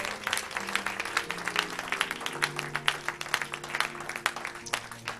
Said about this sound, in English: Come on, clap your hands, everybody.